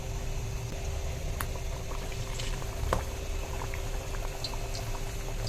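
Kachoris frying three at a time in medium-hot oil in a small wok, a steady bubbling sizzle running throughout with occasional sharper pops.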